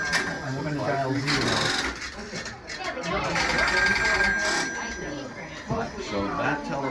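Old telephone bell ringing on a switchboard line at a small-town telephone exchange in Bryant Pond, Maine, 1980, rattling loud and close in bursts under people talking.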